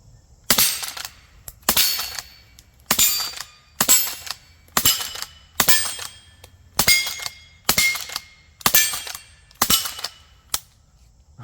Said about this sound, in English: Let's put some rounds down range and see how it does.